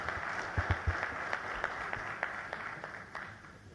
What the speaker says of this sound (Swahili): Mabibi na mabwana, makofi tafadhali.